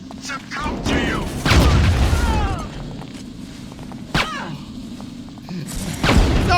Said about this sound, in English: No, he's got a rocket launcher too.